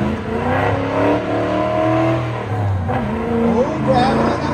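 Autocross car accelerating hard and shifting up through the gears, with rising engine tones that dip and climb again at each shift, close and loud beneath steady talk.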